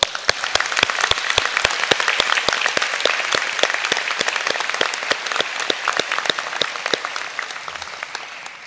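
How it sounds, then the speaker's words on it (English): Applause at a graduation ceremony: a large audience claps steadily, with sharp, evenly spaced rhythmic claps standing out over a continuous wash of hands, loud and close, tapering slightly toward the end. "now the last round of applause"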